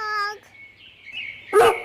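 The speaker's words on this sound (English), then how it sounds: "D for dog." A dog barks once, loud and close, near the end of a cheerful children's alphabet song, after a held sung note and a quieter stretch.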